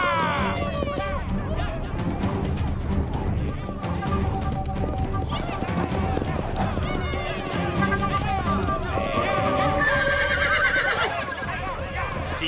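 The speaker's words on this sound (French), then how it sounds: "Ils vont rabattre les chevaux et les coincer contre la falaise." Horses in a cartoon gallop and neigh as they are driven toward a cliff, with continuous clip-clop hooves and repeated whinnies over loud music and voices throughout.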